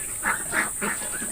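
Ducks on a meat duck farm give three or four close, nasal quacks and honks in a loose rhythm over a steady background hiss, with no talk.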